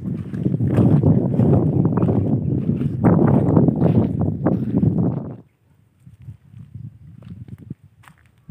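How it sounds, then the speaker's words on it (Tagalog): Loud gusting wind buffets the microphone for about five seconds, then drops abruptly to faint, intermittent rustling. "Sobrang lakas na ng hangin"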